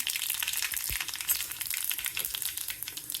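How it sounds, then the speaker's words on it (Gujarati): Crackling sizzle of mustard seeds and cumin popping in hot oil, close and moderately loud, with sharp little spits and bursts scattered through the hiss. "મને લાગે તેલ આવી ગયું છે તો ફટાફટ વઘાર કરી લઉં"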